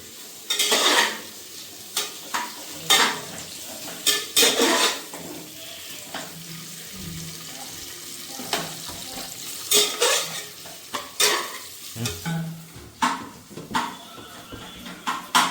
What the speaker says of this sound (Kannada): ಈರುಳ್ಳಿ ಹಾಕೊಂಡ್ಮೇಲೆ ಬ್ರೌನ್ಸ್ ಬರೋದು ಕಾಯಿದೆ ಹಾಗೆ ಬೇಯಿಸ್ಕೊಳ್ಳಿ